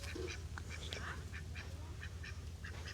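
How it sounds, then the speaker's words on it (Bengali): Ducks roaming by a village pond in the Sundarbans, with repeated short quacks scattered through the clip, some near and some farther off, over a steady low rumble of background noise. "দেখুন হাঁসগুলো চড়ে বেড়াচ্ছে কি সুন্দর"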